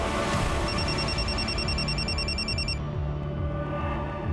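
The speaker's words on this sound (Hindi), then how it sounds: "सर वो रूपाली जी के असिस्टेंट तुषार का फ़ोन था" A telephone rings in a Crime Patrol crime drama scene, a steady repeating electronic ring pattern that carries loudly for nearly three seconds before cutting off, with low background music underneath.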